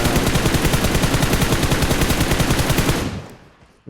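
Sustained automatic gunfire in PUBG Mobile, a fast, loud rattling burst of evenly spaced shots that runs continuously for about three seconds and then stops abruptly.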